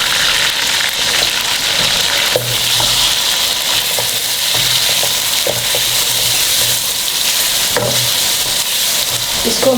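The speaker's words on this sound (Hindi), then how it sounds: "ज़रा मिक्स हो जाए, इसके अंदर फ्राई हो जाए हमारा चिकन।" Chicken frying in a pan with ginger-garlic paste while being stirred, a steady loud sizzle running throughout with scraping stir strokes and clinks close by.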